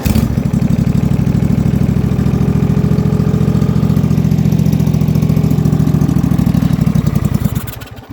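Yard Pro YT-16 lawn tractor engine running on a cold start at minus two degrees Celsius, a steady loud close-up idle with a rapid chugging pulse that winds down and cuts off at the end.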